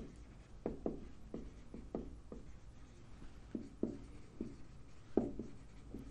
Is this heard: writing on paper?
yes